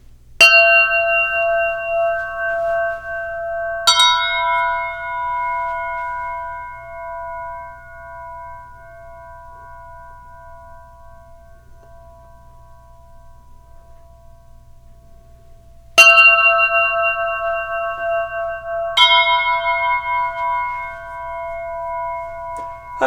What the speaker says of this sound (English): These are small aluminum, sort of a Burma bell, made by Steve Hubback.